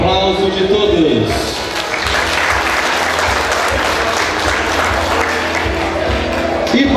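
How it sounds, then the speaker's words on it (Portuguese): An audience applauds at the ACP 45th anniversary ceremony, the clapping swelling after a brief voice and holding as a dense, steady roar for several seconds. "Obrigado, para o aplauso de todos."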